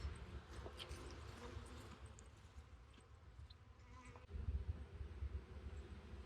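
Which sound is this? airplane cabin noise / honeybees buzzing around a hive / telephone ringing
honeybees buzzing around a hive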